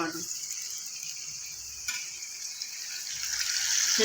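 Rice fries in a pan with a close, steady hiss of sizzling oil that swells slightly toward the end, plus a faint stirring sound.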